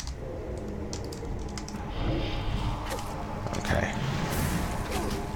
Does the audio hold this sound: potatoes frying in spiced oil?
no